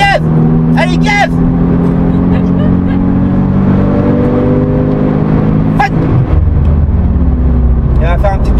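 A Porsche engine pulling under throttle from inside the car, a steady low drone that rises in pitch and strengthens toward the end, with people talking over it throughout.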